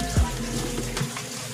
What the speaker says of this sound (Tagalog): Dito po sa first chamber, pumapasok yung tubig galing po sa pan natin.